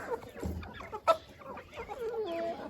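A rooster clucks in a farmyard, giving several short calls and one sharper squawk in the middle; the bird sounds close and there is no talking.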